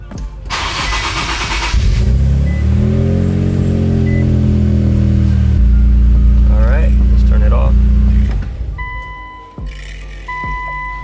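Infiniti Q50 sedan starting and idling after a transmission fluid drain, a steady low engine rumble with a brief rev near the start that settles into an even idle, close by, with clicks and a chime toward the end.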